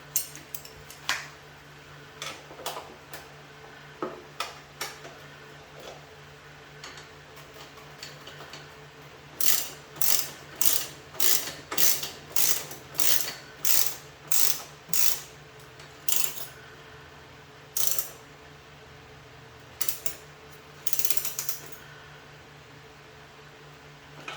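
Ratchet wrench tightening bolts on the luggage rack of a Moto Guzzi V7 Special, a series of close, crisp clicking bursts in quick rhythmic runs with short pauses, no talking.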